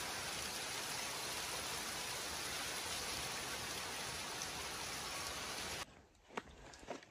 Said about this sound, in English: it's like it's rain, snow, and hail all at the same time